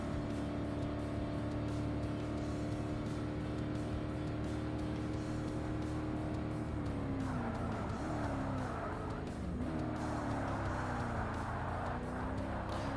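Tires squeal and skid as the wheels lock up on a C-class race car during an endurance race in Forza Motorsport, the engine droning loudly throughout with pitch dips as the revs collapse under braking.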